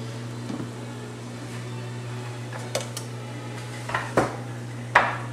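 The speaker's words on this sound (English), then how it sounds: "I'm going to stir them lightly here just to make sure they don't stick to the bottom of the pot" A pot of gnocchi being stirred lightly, with a few soft scrapes and clinks of a utensil against the pot over a steady low kitchen hum, the knocks growing slightly louder toward the end.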